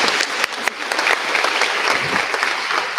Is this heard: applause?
yes